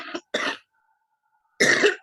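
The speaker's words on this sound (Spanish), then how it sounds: "¡Uy, qué tos!" Two sharp coughs close together, then a pause and a third harsher cough, loud and close to the microphone from a person with rhinitis, with no talk around them.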